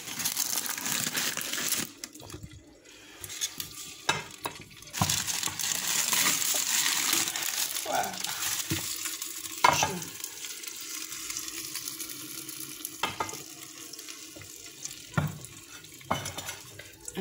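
Tanjia, a Marrakech-style stew, bubbles inside a clay pot, a dense hissing simmer with scattered clinks and scrapes, steady and close throughout with no talking.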